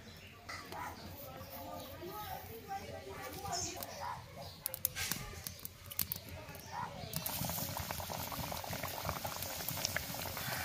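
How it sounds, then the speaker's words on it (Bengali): Spinach puris frying in hot oil, a dense bubbling crackle that holds steady throughout, with a few sharp ticks midway and the frying growing slightly brighter toward the end, heard close up. "তেলটা গরম হয়ে গেছে, এরপর পুরিগুলো ছেঁকে নেব"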